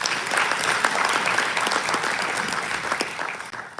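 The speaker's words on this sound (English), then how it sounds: "Can we give her a round of applause?" An audience at a workplace safety and health commemoration event gives a sustained round of applause, dense and fairly loud, easing off toward the end with no talk over it.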